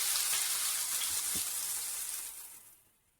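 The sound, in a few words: sliced onions sautéing in hot oil in a pan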